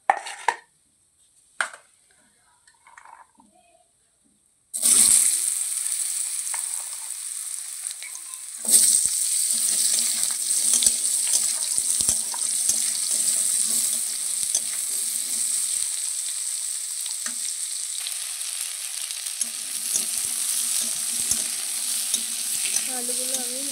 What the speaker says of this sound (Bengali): তো দেখো আমি এই তেলে আলুগুলো দিয়ে দেব।